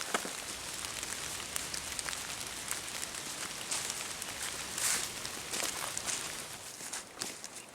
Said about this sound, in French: Et là, c'est le déluge.